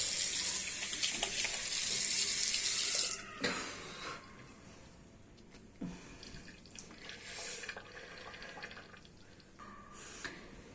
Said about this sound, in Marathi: मी ना चेहरा धुवून घेते स्वच्छ असं